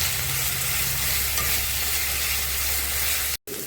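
Onions sizzle steadily in a pan for chicken curry, a loud, even frying hiss with soft stirring underneath, cutting off briefly near the end.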